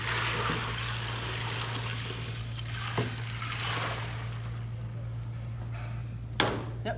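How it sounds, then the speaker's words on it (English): Hot pastrami brine poured from a pot directly onto ice in a bin, a soft trickling and hissing pour under a steady low electrical hum, with a few knocks and a sharp clank near the end. "So I pour it directly on the ice, just to help it cool down."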